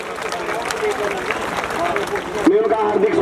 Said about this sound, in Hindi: सभी तालियों के साथ स्वागत करें।